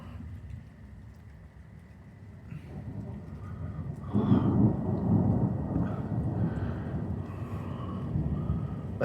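Thunder rolls low and heavy through a thunderstorm over Elyria, rising into a loud rumble midway as wind-driven rain and gusts buffet the outdoor scene.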